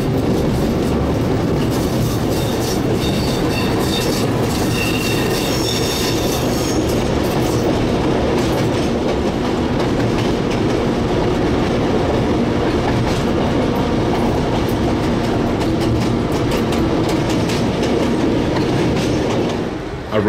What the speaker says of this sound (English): DG772 leads the train back downhill.